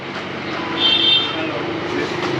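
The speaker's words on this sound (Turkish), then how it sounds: "Trafik aşırı fazla var. Yani gerçekten çok fazla trafik var." Heavy street traffic with many motorcycles in Nepal forms a steady engine rumble with a rising whine, as if a passing vehicle. A person talks over it.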